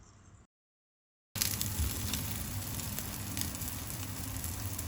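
Prawn patties (dangar) hitting a hot pan, with a steady frying sizzle that starts abruptly after a short quiet gap and continues evenly, close and moderately loud.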